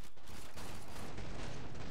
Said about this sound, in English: Dual pistol.